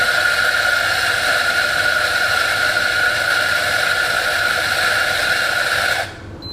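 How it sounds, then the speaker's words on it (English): A coffee grinder grinds espresso beans in a loud, steady whirring drone that holds for about six seconds and then stops abruptly. "Okay, so I'm going to use the setting that I have for this grinder."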